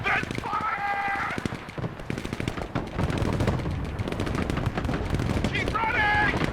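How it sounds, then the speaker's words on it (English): Dense gunfire in the military strategy game Broken Arrow, rapid machine-gun bursts and heavy shots rattling continuously and loudly, with tonal game alert signals at the start and end and voices shouting orders over the battle. "Heavy weapons team engaged in combat! Open fire!"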